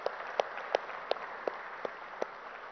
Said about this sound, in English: Can we have a bigger round of applause for the chief guest?